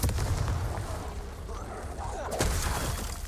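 Loud, dense burst of spell blasts and explosions in the Hogwarts Legacy video game, with booming rumble throughout and a sharp crack near the end amid chaotic combat noise.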